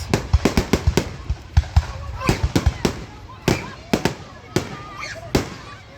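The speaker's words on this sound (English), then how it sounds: "I know, but it's not a lot of fireworks." Carnival fireworks on the final night burst in a rapid irregular series of sharp loud bangs, some crackling tails between them, with spectators talking throughout.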